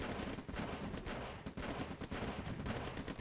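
Gunfire from the Command and Conquer Red Alert strategy game comes as dense, rapid bursts of shots that run continuously and fairly loud, with brief dips in intensity.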